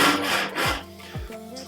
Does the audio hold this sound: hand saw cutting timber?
yes